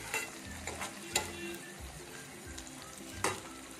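Capsicum frying in a pan, a soft steady sizzle with occasional sharp clicks of stirring against the cookware, fairly quiet and with no talking.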